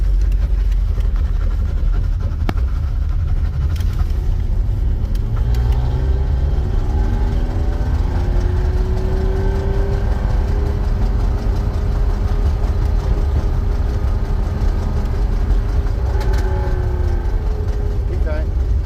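A BMW E46 engine drones and revs during drifting, a loud steady low rumble with rising and falling pitch sweeps, heard under talk and shouting inside the car.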